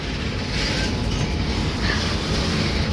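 Train rumbling steadily at a railway station in Jamshedpur, a continuous loud rolling noise of wagons on the rails throughout, with no voices.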